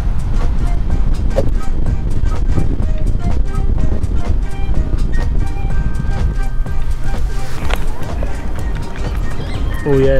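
Cycling with a dog carried in a backpack carrier brings loud, constant wind buffeting across the microphone. A person talks over the rushing noise.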